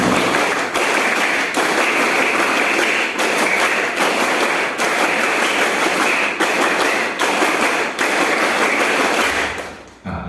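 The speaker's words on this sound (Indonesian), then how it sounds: "Oke, tepuk pramuka 3 kali." Schoolchildren in a classroom perform a scout rhythmic clap, a loud, continuous burst of many hands clapping together in steady patterned bursts with short breaks, running for about ten seconds before stopping abruptly near the end.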